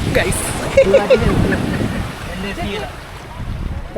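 Gusty sea wind buffets the microphone with low rumbling and the wash of waves, while people talk intermittently over it.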